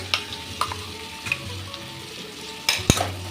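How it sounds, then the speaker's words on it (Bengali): Chicken pieces frying with ginger, garlic and green chili paste and onion for a Bengali chicken jhasa maru, a close, steady sizzle broken by spatula stirs and a sharp clink near the end. "এটা একটু ভালো করে আর একটু ভেজে নেব"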